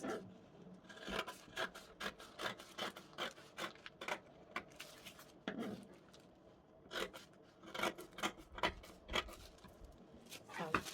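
Scissors snip through Ankara fabric while a tote bag pattern is cut out, a rapid run of close, crisp cutting strokes with short pauses between bursts.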